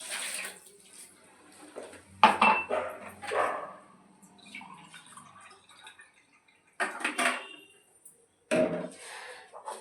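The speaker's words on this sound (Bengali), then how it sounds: "এবারে এটার মধ্যে আমি সেই ডাবের জলটা একটু দিয়ে দেবো।" Green coconut water is poured into a dish while making dab paneer. It comes as a few short, splashy pours of a second or so each, separated by quiet gaps, with faint clatter between them.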